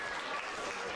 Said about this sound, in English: As the crowd give her a round of applause